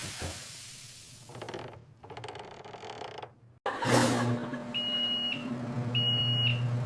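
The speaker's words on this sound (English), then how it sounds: "But then the smoke alarm." Two shrill electronic beeps from a kitchen smoke alarm set off by cooking smoke, sounding in quick succession near the end after rustling and creaking noises.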